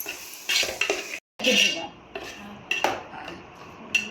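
Clattering stirring of bitter gourd sautéing in a pan, with a spoon scraping and tapping the metal in irregular bursts and a soft sizzle underneath, close up.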